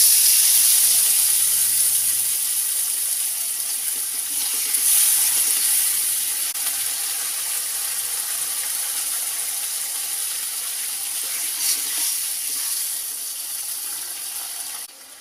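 Water poured into hot oil with bay leaves sizzles and hisses steadily in a pan, a loud bright continuous rush close by that eases slightly over time.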